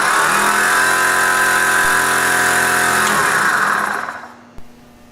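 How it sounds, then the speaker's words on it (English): WARN Powerplant winch with its built-in air compressor running on a Jeep Wrangler TJ, a loud, steady, close mechanical hum and whine that winds down and stops near the end, with no talking. "flip the knob to the compressor setting and turn it on"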